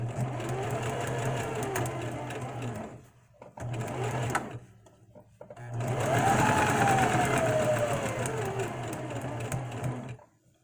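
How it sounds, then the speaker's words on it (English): A sewing machine stitching a front button flap runs in three long, steady whirring bursts with short pauses between, close and fairly loud, its motor pitch rising and falling slightly. "what I'm going to do is sew on that front flapping for buttons"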